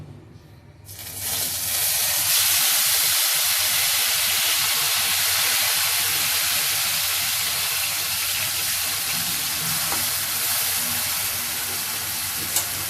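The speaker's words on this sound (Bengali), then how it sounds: "এখন এই পেস্টটাকে আমাদের এই তেলের মধ্যে মানে ভাজা ভাজা করতে হবে আর কি।" Thai green curry paste frying in hot oil on a stove, a loud steady sizzle that swells up after a brief quiet start and hisses on without a break, close by and alone.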